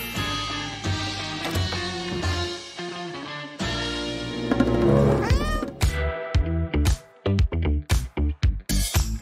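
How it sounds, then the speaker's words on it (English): A cat meows and caterwauls loudly up close over bright background music, with a series of sharp, rhythmic clicks and thumps following toward the end. "You're a bad kitty, Whiskers."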